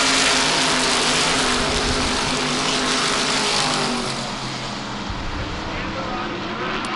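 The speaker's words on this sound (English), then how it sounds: "Todd Saravallo up there in the white car" Race cars roar past on a racetrack at an auto racing event, a loud continuous engine drone that swells and then eases slightly as the field moves on.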